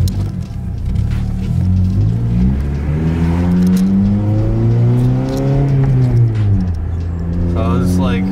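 An Acura TSX accelerating on the road with a hybrid racing clutch master cylinder and slave cylinder fitted, its engine rising steadily in pitch, dropping quickly at a gear shift, then climbing again, loud and continuous inside the car.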